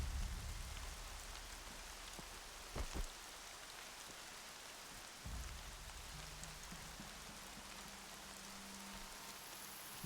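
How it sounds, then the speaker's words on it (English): Steady rain falling in the video game Horizon Zero Dawn, a constant hiss of drops spread evenly across the whole stretch, with a couple of brief low thumps partway through and no one talking. "Rain's not so bad."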